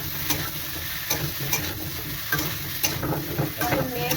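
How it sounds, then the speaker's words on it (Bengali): Onions fry in a pan with boiled potato and cauliflower, a close, steady sizzle punctuated by regular scraping stirs of a spatula, with no voices. "এরপর আমি এখানে দেবো সেদ্ধ করা আলু আর ফুলকপিটা দিয়ে ভালো করে 5 মিনিট ভেজে নেবো।"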